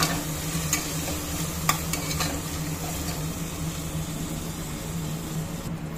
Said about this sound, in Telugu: ఇందులో కరివేపాకు వేసి ఫ్రై చేస్తాము